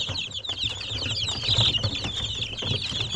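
Young chicks, sixteen days old, cheep continuously in a dense, overlapping chorus of high, rapid peeps, close and fairly loud, with soft fluttering and scuffling beneath.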